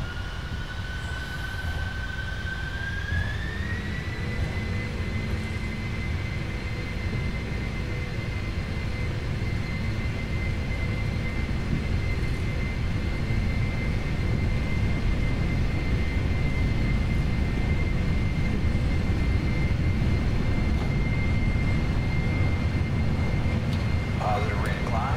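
An airliner's jet engines spool up to a rising whine and then a steady roar during the takeoff roll on runway 15 left, loud and continuous from inside the cockpit for the whole stretch.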